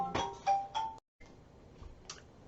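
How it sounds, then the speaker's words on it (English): A mobile phone rings with a short electronic tone, repeating in three quick bursts, a pause, then one more, quiet and close against a hushed room. "oops, there goes my phone"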